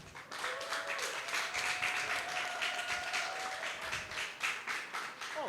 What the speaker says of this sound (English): with a resounding round of applause, ladies and gentlemen, shall we welcome Mary Bennette.